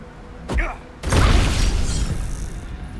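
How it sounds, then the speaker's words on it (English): A haste grenade is thrown onto the party in Baldur's Gate 3, giving a brief whoosh followed by a loud burst and a lingering hissing cloud effect, with faint voices mixed in. "My character is gonna throw this haste grenade on my party."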